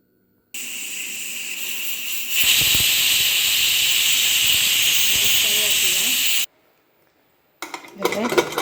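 A pressure cooker holding pachadi for an Onam sadhya lets off its steam in a loud, sustained close hiss for several seconds, then falls quiet before light clinks of the lid and pot.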